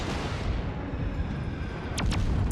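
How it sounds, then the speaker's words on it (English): Battleship secondary guns fire in World of Warships amid a dense, continuous rumble of naval gunfire and booms, with a couple of sharp louder reports near the end. "the secondary guns are firing at me now"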